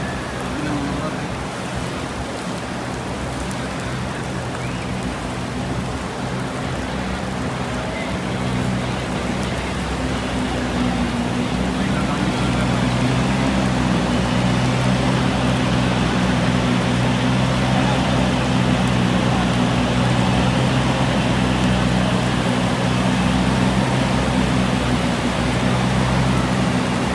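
A downpour falls in an even, unbroken wash over the courtyard of Masjid-e-Nabawi in Medina, growing slightly heavier, with a low steady hum underneath and muffled voices in the background.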